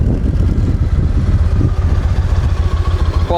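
A used Yamaha Raider motorcycle engine runs steadily nearby, a loud, even throbbing idle with a rapid pulsing beat and light mechanical clatter, no voices.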